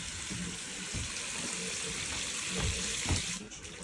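Steady rushing water runs and splashes onto a Frigidaire range fire throughout, with an ongoing hiss and crackle, briefly louder near the end.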